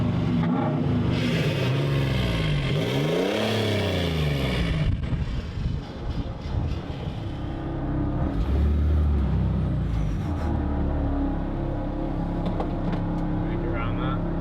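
An old Land Rover engine with a side-pipe exhaust rumbles and idles loudly and smokily close by, with a deep throbbing low end throughout, some revving swells midway, and a voice briefly heard over it.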